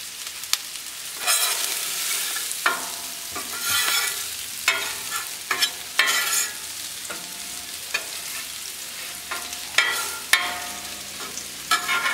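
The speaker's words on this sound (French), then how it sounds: "maintenant je vais les pousser vers le fond comme ça, elles vont finir de cuire tout doucement" Quails sizzle and fry on a hot plancha, with a steady crackling hiss broken by repeated scraping and pushing strokes of a spatula as the birds are moved toward the back to finish cooking gently.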